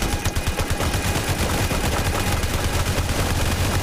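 Rapid gunfire in the Pet Simulator X game, a fast repeating machine-gun-like rattle of shots, loud and continuous for a few seconds.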